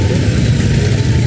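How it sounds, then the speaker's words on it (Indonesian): Steady, dense rumble of city traffic in a Minangkabau town, with engines idling and running close by in a continuous low drone; no distinct horn blasts stand out. "Klakson di mana-mana, suara kendaraan."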